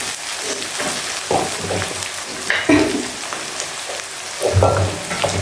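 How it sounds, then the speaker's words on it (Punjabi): Steady crackling sizzle of spices frying in hot oil, with occasional clinks and scraping of a pan, close up. "ਲੋ ਜੀ ਆਪਣਾ ਤੜਕਾ ਕਰ ਹੈ ਹਲਕਾ ਜਿਹਾ ਗਰਮ ਕਰ ਲਈਏ"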